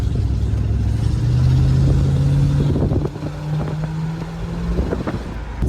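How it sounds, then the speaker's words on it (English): Outdoors at a car meet, a car engine revs up hard with a rising whine and rough roar, then settles into a choppier rumble with bursts of noise, close and loud. "You want me to spin the tires right here?"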